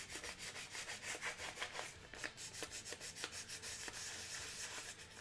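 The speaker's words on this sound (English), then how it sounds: "Sanding's going pretty well though." Wood is rubbed with worn sanding film in quick back-and-forth strokes, a soft rhythmic scratchy rasp heard up close, with short pauses between passes and no talking.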